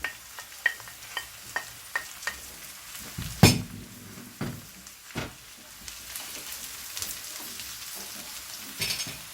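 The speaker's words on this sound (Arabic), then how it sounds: "اول شيء بنضيف الحصالية نحمسها قبل السودي" Ingredient toasting in a pan for a chicken liver and onion dish, a quiet sizzle under a series of sharp clinks and stirring knocks, with one louder scrape midway.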